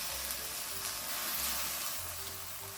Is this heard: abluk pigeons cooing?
no